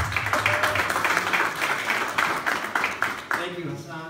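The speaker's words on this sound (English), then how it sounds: "let's give him a round of applause" An audience at a merchant meeting in Hamtramck, Michigan claps in a brief, moderately loud round of applause, with a voice starting to speak near the end.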